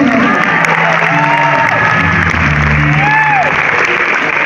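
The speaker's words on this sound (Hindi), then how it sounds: "ढेर सारी तालियां" An audience in a concert hall at a Faiz festival in Alhamra Hall, Lahore, applauds loudly and continuously, dense close clapping with some cheering throughout.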